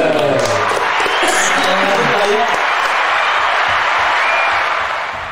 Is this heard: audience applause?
yes